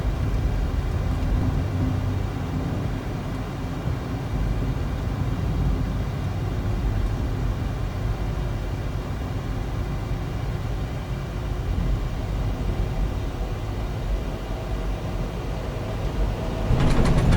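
A military jet lands at San Diego in Microsoft Flight Simulator with an immersion add-on, giving a steady, loud engine roar and rumble that holds throughout and swells slightly near the end.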